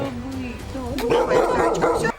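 A dog at an animal shelter yelps and whimpers during a vaccination, short high-pitched cries, close and loud, over a voice.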